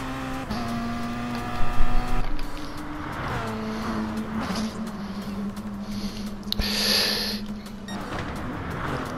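Race cars in a Gran Turismo GR3 video game race at Interlagos, with whining engine tones that hold and shift in pitch as cars accelerate and pass, fairly loud and continuous.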